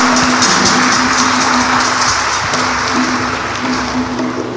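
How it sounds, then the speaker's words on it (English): A church congregation at an Igbo Mass claps for parishioners, sponsors, lectors, ushers, the choir and other helpers, a dense steady patter of many hands filling the room, with a sustained low musical tone running underneath. "Let's clap for everybody"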